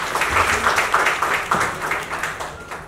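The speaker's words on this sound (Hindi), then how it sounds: "ताली तो बनती है" A crowd applauds with steady clapping, fairly loud and sustained, gradually tapering slightly toward the end.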